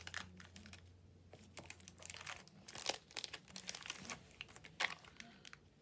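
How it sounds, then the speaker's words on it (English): Postage stamp packaging crinkles close by in quiet, irregular bursts of crackly rustling, fairly soft, with a brief voice murmur at one point. "Pardon the crinkles."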